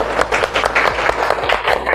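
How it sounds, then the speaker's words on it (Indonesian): Students clapping in a classroom during an Islamic religious education lesson, a brief, dense burst of hand claps close by with no talking. "Ya, terima kasih, tepuk tangan buat Alif."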